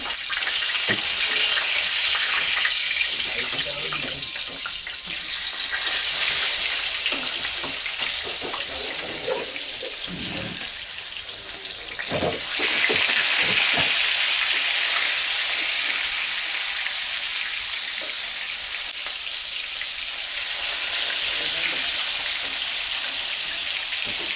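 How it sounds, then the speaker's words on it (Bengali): Rohu fish pieces frying in hot oil in a pan, a loud, continuous crackling sizzle for the whole stretch, with a few brief clattering knocks midway as the fish is turned; no voices. "এখন আবার নিয়ে আসলাম, ফ্রাই হতে থাকুক। এখন মাছগুলো উল্টিয়ে দিই।"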